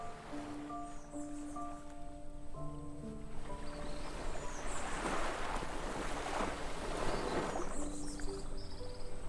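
Waves washing onto a white-sand beach with palm trees and red rocks in the sea, a continuous surf wash that swells in the middle, mixed with wind and faint background tones.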